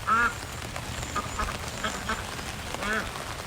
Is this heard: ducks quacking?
yes